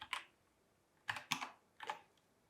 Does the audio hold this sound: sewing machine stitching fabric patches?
no